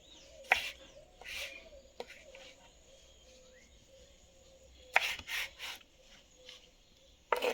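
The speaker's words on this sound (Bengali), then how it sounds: "এবার টমেটোগুলো কেটে নেবো" Knife slicing ripe tomatoes for a chutney, giving several sharp cutting clicks and taps in separate bursts against a quiet background, close and fairly faint.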